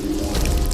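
Water splashes onto someone in a school prank, a short wet burst of splashing and dripping lasting under a second, loud and close with no talking.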